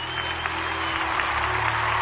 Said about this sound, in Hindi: संगीत खत्म होने पर तालियां ही तालियों से पूरा हॉल गूंज रहा था